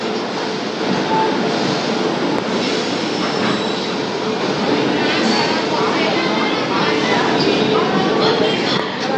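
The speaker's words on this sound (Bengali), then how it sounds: "খড়গপুর জাংশনের 4 নম্বর প্ল্যাটফর্মে এসে পৌঁছালো শালিমারপুরী ধৌলি সুপারফাস্ট এক্সপ্রেস" The 12821 Shalimar–Puri Dhauli Superfast Express pulls into platform 4 at Kharagpur Junction with a loud, continuous roar of wheels and rolling stock that stays steady and close throughout.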